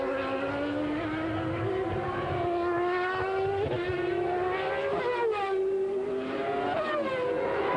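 Michael Schumacher's Formula 1 car racing on lap 23 of the 1994 British Grand Prix, a loud, continuous high-pitched engine scream that rises and dips in pitch as it changes gear, with no talking.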